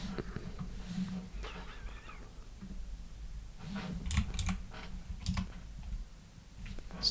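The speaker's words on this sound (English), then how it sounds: "You probably need to type it, right?" Sparse computer keyboard taps during a coding session, a few quiet keystrokes clustered midway, with faint talking in the background.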